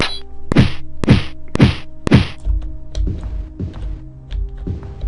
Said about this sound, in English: The sound of drums?